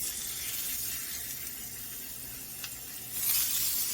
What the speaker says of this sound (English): put them in the pan, fry them on both sides